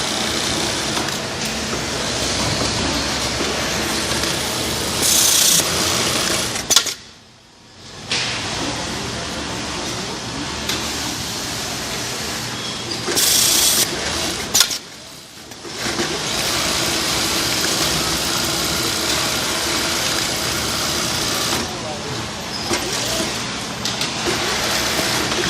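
An automated sewing machine with a programmed elastic-tightening system runs in a steady, close mechanical whir and rattle, briefly stopping twice before starting up again, with no talking.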